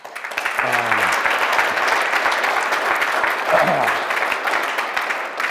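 A live audience bursts into loud, sustained clapping that fills the whole stretch, while a voice briefly speaks over it near the start and again midway.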